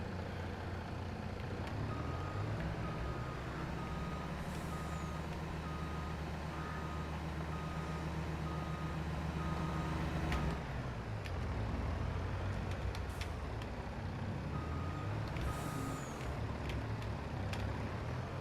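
In Farming Simulator 22, a truck reverses with a steady rumbling engine and a regular electronic backup beep repeating the whole time, and the engine note shifts partway through.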